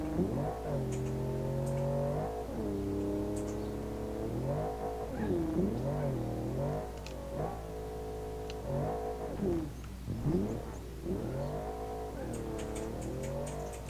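Car engine in BeamNG.Drive revving hard and repeatedly while overheating, rising and falling whines in a string of pulls, loud and close with no talk.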